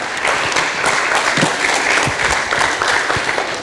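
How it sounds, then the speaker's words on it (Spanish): Audience applause for a doctor introduced on a faith-and-science panel, a steady dense clatter of many hands at close range, sustained evenly throughout with no talk over it. "Un aplauso para el doctor"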